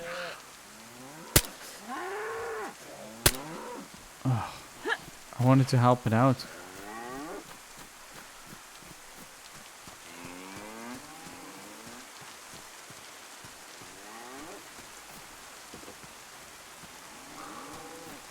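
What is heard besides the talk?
cow mooing in the video game DayZ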